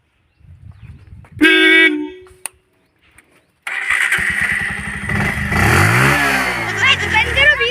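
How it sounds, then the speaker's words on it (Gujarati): A motorcycle at a showroom is kicked over, coughs briefly, then catches and revs loudly in rising and falling surges, with a horn-like honk and voices talking around it. "હું તમને આ બાઈક ચાલુ કરીને દેખાઉં"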